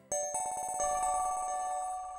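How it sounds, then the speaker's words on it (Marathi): A phone ringtone plays in a home, a bright electronic melody with repeating notes that starts abruptly and rings on steadily and fairly loud, with no talking over it. "अनुचा फोन आहे अगं."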